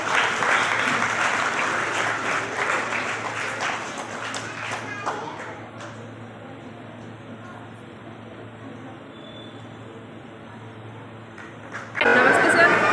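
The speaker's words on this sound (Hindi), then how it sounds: "एक बार जोरदार तालियों से" An audience at a school investiture ceremony claps loudly, dense applause filling the first half before thinning and giving way to quieter room noise, then a sudden burst of sound returns at the end.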